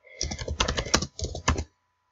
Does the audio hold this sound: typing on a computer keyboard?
yes